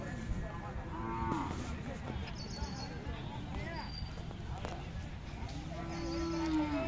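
Khillar cattle at a Sunday bullock market in Mudalgi, Belgaum, Karnataka: lowing moos rise over a busy outdoor crowd with people talking throughout, and a long drawn call near the end.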